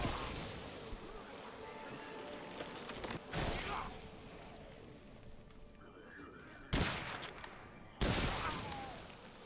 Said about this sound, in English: that hunger pistol is so perfect for these encounters. It does the right amount of damage.